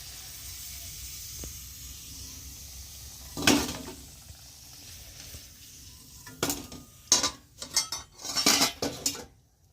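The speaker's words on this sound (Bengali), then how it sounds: "এখন আমি আলুটাকে একটু উঠিয়ে নিব" A utensil clatters against a pan while fried potatoes are lifted out, with clinks and scrapes arriving in short bursts over a faint background hiss, close by and without talking.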